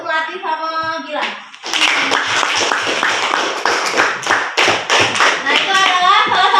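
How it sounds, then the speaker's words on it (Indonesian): Classroom of primary school children at SDN 4 Rejang Lebong clapping together for a student, loud rhythmic group clapping that follows a voice speaking and keeps going steadily to the end. "beri tepuk tangan untuk melatih sama Gilang"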